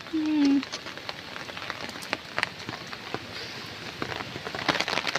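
Heavy rain falls steadily in the Sundarbans, a soft, constant patter on surfaces with scattered louder drops, fairly faint overall, with a brief tonal sound near the start.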